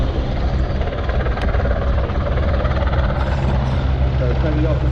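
Helicopter rotor and engine roar at a Scottish airshow in Ayr, a loud, steady low-pitched drone filling the whole stretch with a brief click near the start.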